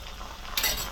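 Ginger-garlic paste stirred in a pan while making pasta, a steady close scraping and sizzling that grows louder in a brief rasping stir near the end, with no voices.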